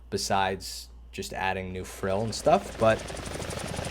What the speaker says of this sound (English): This is my first time flying a helicopter, by the way.